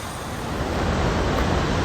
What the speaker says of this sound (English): we are here at GODAFOSS Waterfall